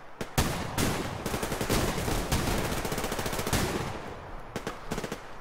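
Rapid gunfire from the shooter game Suvarium rattles in loud, dense bursts of sharp shots, nearly continuous across the clip with brief gaps near the end.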